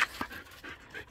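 A young female puppy pants close by in quick, soft, breathy puffs with a faint whimper, steady and fairly quiet.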